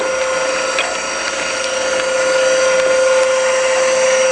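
A metal square is ground flat on a grinding machine, giving a loud continuous abrasive hiss over a steady high motor tone, with faint ticks and scrapes throughout.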